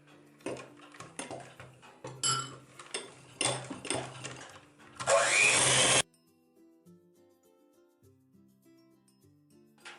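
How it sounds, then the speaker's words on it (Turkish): Clattering and scraping give way to a loud, steady electric hand mixer whir whipping dalgona coffee that runs for about a second before cutting off. "Daha sonra biraz mikserimle çıkmak istiyorum."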